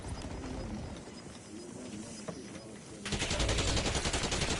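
Enemy gunfire in a video game shooter, a dense stream of rapid shots that turns louder and closer near the end, over ongoing rumbling game noise.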